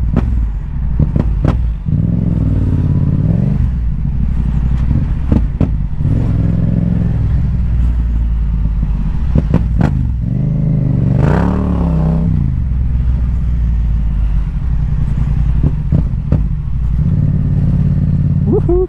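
Motorcycle engine running after a cold start, a steady loud rumbling idle with a few revs and rattly clatter, close by throughout, no talking.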